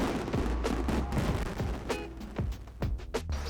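A night fireworks show in Spain, after a private party, sets off a rapid irregular string of sharp pops and booming bangs at moderate distance, some overlapping, with no talking.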